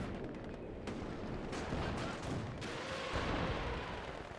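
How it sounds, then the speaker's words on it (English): Heavy mortar barrage in a World War II multiplayer match, a continuous rumble of distant and mid-range blasts with several sharper impacts around one, one and a half and two and a half seconds, no talk. "Heavy mortar. It's another heavy barrage."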